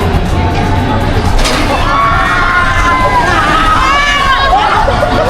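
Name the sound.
people screaming on an extreme amusement park ride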